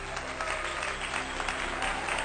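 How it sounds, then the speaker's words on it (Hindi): A gathered crowd at a street-performer show claps hard together, a short burst of busy clapping heard at moderate level, with a steady low hum underneath. "अब सब मिलकर जोर से तालियां बजाइए।"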